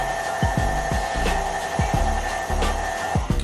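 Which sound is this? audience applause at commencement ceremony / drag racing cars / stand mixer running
stand mixer running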